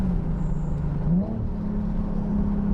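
A Nissan 370Z with a DIY muffler delete downshifts on a mountain road, its engine note rising and dipping briefly before settling into a steady drone, heard from inside the car.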